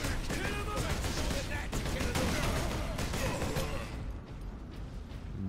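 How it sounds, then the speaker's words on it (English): A full-auto bolter from Warhammer 40K: Space Marine fires in a dense rapid stream of explosive shots, the burst rattling on loudly for several seconds before thinning out near the end. "This is going to be the like full auto bolter."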